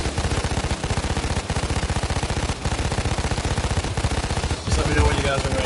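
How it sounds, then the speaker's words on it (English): Sustained automatic gunfire in the shooter video game Payday 2, a loud, rapid, unbroken stream of shots hammering continuously with only a brief pause before firing resumes. "I'll start laying down fire."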